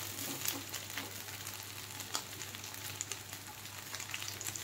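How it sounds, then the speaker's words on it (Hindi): Corn and methi kebabs fry in a pan with a soft, continuous sizzle and scattered small pops. The frying is faint and steady, with no talking. "थोड़ा सा ये साइड से भी हम करेंगे इसको फ्राई।"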